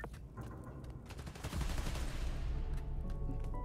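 Gunfire in the Spider-Man: Miles Morales video game, a dense fusillade of rapid shots that swells louder partway through and keeps rattling steadily over a low rumbling game backdrop.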